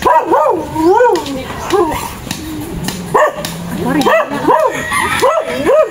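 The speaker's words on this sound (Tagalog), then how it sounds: "Nagalit na yung aso." A dog barks repeatedly in short, agitated bursts, close by, with some whining between barks and a voice speaking in the background.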